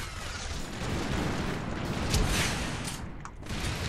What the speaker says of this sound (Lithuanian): kažkas čia šaudo